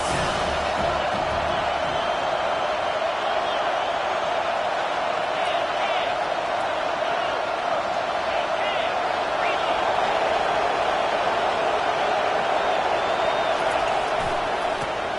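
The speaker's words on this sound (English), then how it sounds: "Third down, and this crowd is tearing the lid off this place." A stadium crowd roars steadily at an American football game against Arizona on third down, a dense, sustained wall of cheering with a commentator talking over it.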